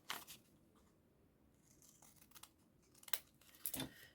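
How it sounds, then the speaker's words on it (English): Scissors snip away two corners of folded paper just inside the fold line, a few faint, brief cuts and crinkles spaced apart near the start and end, close but quiet. "we're going to cut these two corners away just inside of the fold line"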